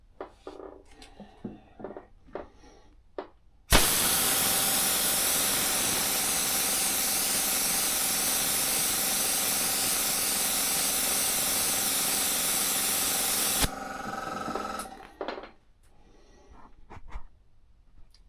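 Spray can laying a coat of paint on a helmet, a steady loud hiss held for about ten seconds, framed by quieter handling clicks and taps before and after.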